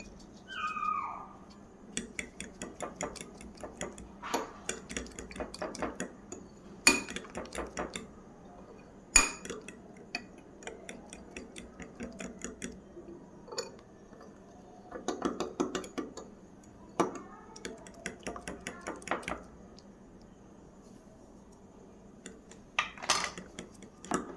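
Semolina is mixed into pitha batter in a bowl, with uneven clinks and scrapes of a utensil against the bowl, some sharp and some soft, spread over a long quiet stretch with no voices.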